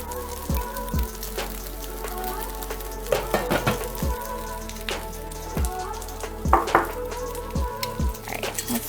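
Seitan fries in a pan alongside broccoli with a steady crackling sizzle, and a few louder pops and scrapes break in as pieces are handled and turned, close and without talk.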